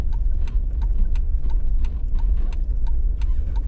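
Horse hooves clip-clop at a steady walking pace as a horse pulls a heavy tour carriage through city streets in Charleston, South Carolina, over a constant low traffic rumble.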